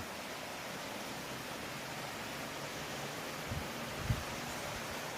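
Than Thong waterfall in Sangkhom, Nong Khai, flows with a steady, faint broadband rush of falling water, continuous and even throughout, with a couple of soft low thumps near the end.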